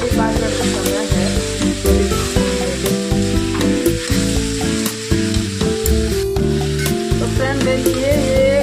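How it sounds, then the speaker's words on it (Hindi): Potatoes, green beans and onion being stirred as they fry in a pan, with a steady sizzle and scraping running throughout, partly masked by loud tonal background music. "देखिए ये कितना अच्छा से भून गया है आलू और बीन्स और प्याज।"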